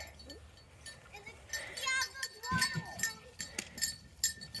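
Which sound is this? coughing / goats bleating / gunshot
goats bleating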